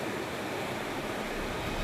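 Steady rushing flow of water at Panther Bluff Falls in Arkansas, a continuous broad wash of sound close by with no breaks.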